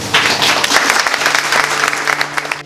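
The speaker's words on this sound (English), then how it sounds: "So let's give them a hand of applause." A crowd applauding steadily, dense clapping at full volume throughout, with no voices rising above it.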